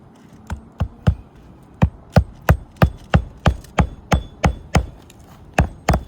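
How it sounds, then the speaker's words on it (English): Hammer driving nails in a set nailing pattern, about fifteen sharp, loud, close strikes falling in a steady, fairly even rhythm with brief pauses, no talking. "Using our correct nailing pattern."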